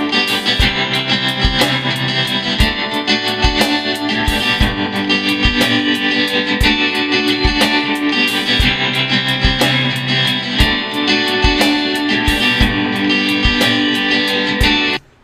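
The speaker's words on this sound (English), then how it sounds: "I heard some tremolo in there." An electric guitar in GarageBand, with a dream-pop tone and a tremolo effect, plays dense, continuous chords with steady pulsing accents for about fifteen seconds, loud throughout and stopping suddenly at the end.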